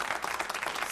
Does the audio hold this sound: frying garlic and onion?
no